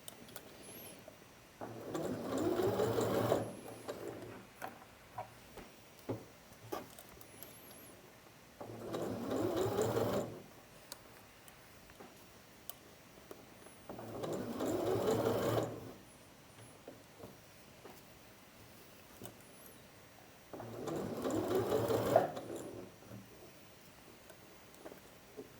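A sewing machine stitches a seam in four separate bursts of steady rapid whirring, each lasting a couple of seconds. Quiet handling noises fill the pauses between them.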